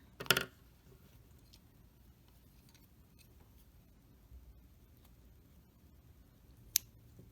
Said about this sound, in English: cut the yarn there